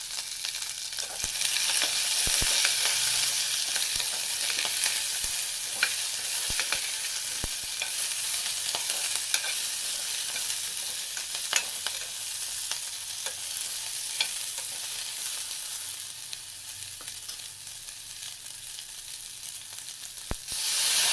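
Curry leaves and dried red chillies crackling in an oil tempering, giving a loud, dense hiss with sporadic sharp pops and occasional stirring clicks, close by and unbroken.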